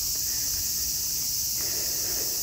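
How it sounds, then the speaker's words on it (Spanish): Cicadas near Gifu Castle in Japan keep up a continuous high, buzzing drone on a hot day, with faint rustling and low background noise beneath. "Escuchan ese sonido, esos sonidos son de las cigarras"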